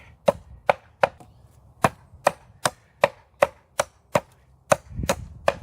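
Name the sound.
Ka-Bar Warthog knife chopping wood branches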